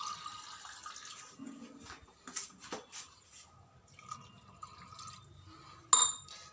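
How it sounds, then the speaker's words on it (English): Water poured into a mixer jar of coconut chutney, with faint trickling, splashing and small clinks against the jar, quiet and close, ending in a sharp clink. "I'm adding the water."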